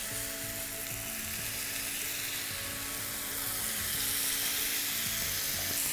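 Chicken tikka sizzles and fries loudly in a hot pan, a dense steady crackle that holds throughout and swells slightly toward the end, with no voices over it.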